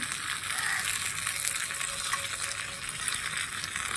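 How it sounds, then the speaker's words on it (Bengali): Leafy greens fry and get stirred in a miniature pan, giving a steady, close sizzle with light scraping and clicking from the stirring, with no talk over it. "হ্যাঁ, এবার আমি শাকটা দিয়ে দিই।"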